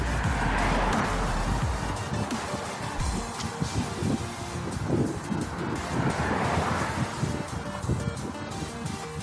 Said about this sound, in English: There are more and more cars.